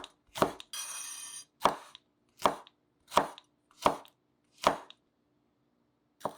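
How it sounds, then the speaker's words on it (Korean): A knife slices red chili pepper diagonally on a cutting board for pork jjageuri, giving about seven crisp, close chops in a steady, even rhythm, with a brief hiss near the start. "홍고추는 어슷썰기한다."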